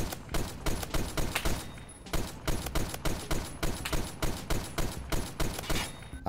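An M60 machine gun fires in a video game, with loud rapid shots in steady bursts and a brief pause partway through. No voices can be heard.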